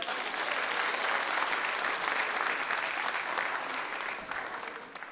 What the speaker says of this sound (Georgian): ტაში დაუკარით